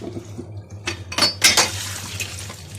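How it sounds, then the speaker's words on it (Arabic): Glass and dishware clinking in a sink with running water, a few sharp clatters in the middle over a steady low hum. "هبتدي ان انا اغسل الكوبايات معاكم كده"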